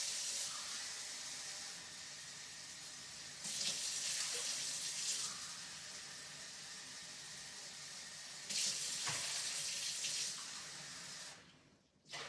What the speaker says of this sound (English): I'm just going to put water in here.